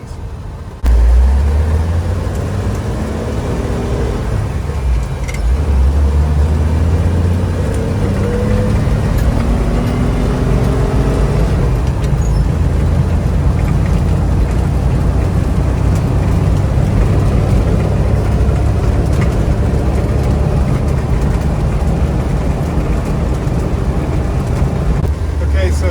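A 1984 Jeep CJ7 starts up and drives, its engine rumbling low and steady throughout with changes in pitch as it accelerates, and a voice talks over it at times.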